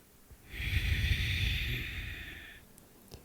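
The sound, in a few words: exhaling breath during yoga cat-cow pose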